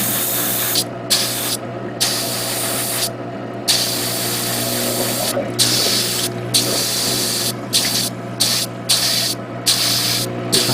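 An airbrush sprays paint onto a Gundam diorama model in short repeated bursts, a close hissing spray broken by brief pauses, with a steady hum underneath.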